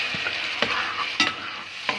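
Tomato sauce hitting a hot frying pan, a close steady sizzle with a few sharp spoon clacks and scrapes as it is stirred.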